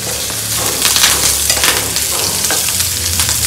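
Dried chillies and curry leaves sizzling in hot oil, a loud close crackle and spit with bursts of popping and stirring scrapes over a steady fry.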